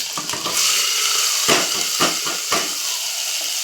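Onion goes into a hot pan of garlic and ginger-chilli paste for a peanut curry, setting off a steady loud hiss of sizzling with a few sharp crackling bursts, close and with no talk.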